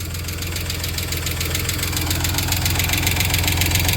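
A blown Chrysler 3.0 V6 in a 1993 Dodge Caravan runs steadily at idle with a loud, continuous low rumble and a rapid, even knocking tick throughout, with no talking.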